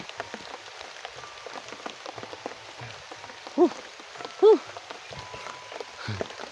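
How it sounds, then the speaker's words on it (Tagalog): Steady rain patters on a surface throughout, with a couple of louder thuds standing out midway. "Ulan mga kaibigan, umuulan kasi."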